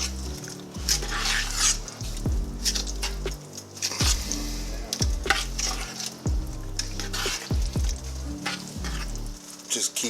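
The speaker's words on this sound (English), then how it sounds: "I gotta keep stirring this, guys" Blackberry jam stirred in a pot as it cooks and breaks down, with a steady bubbling sizzle and repeated scraping and knocking strokes of the spoon against the pot, close and fairly loud.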